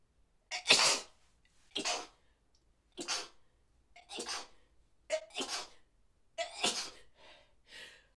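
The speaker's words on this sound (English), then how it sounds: "Now, I gotta sneeze." A string of sharp sneezes, about seven, bursts out in close succession with short quiet gaps between, loud and close.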